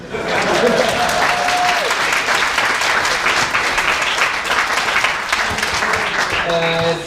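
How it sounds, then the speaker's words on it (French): An audience at a geek convention talk applauds loudly and steadily for several seconds, with brief voices and a faint tone near the end. "c'est le moment où vous applaudissez là"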